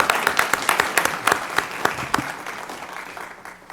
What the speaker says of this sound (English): Let's give them another round of applause for.